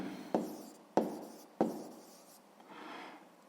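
A pen writes in a notebook during a sixth-grade maths exercise, three quick scratchy strokes followed by a softer rubbing stroke, close and quiet.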